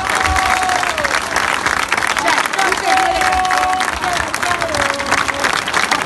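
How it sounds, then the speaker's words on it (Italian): Sustained, dense applause from a crowd honoring lawyer Perazzolo, loud and continuous throughout with crowd noise and voices mixed in. "fate un applauso fatto bene all'avvocato Perazzolo"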